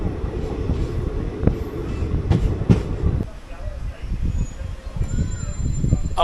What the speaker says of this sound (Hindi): 183 किलोमीटर चलने के बाद ट्रेन जो है पहुंच गई है जी बुच्चू